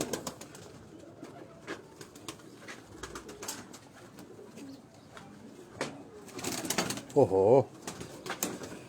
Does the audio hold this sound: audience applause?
no